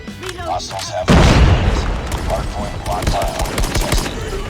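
A loud, sudden blast erupts in Call of Duty Mobile, followed by rumbling and crackling gunfire-like bursts, with a voice talking over it.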